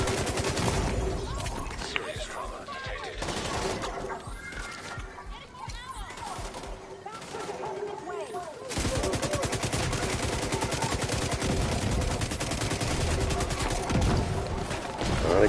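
Rapid gunfire in the video game The Division 2 crackles in dense bursts and sustained volleys, loud and continuous, with a player talking over the shooting.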